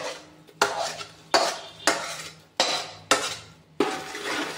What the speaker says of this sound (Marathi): आता हे सर्व एकत्र परतून घेऊया।